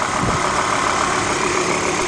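A Volvo station wagon's five-cylinder engine with a five-speed manual idles steadily and quietly at close range, a smooth continuous hum with no voices over it.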